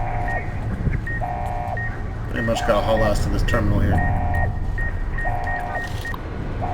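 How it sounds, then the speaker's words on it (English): A repeating two-tone electronic alarm beeps in a steady pattern through a Fallout: New Vegas Dead Money level, with someone talking over it in the middle. "And shut down the alarms."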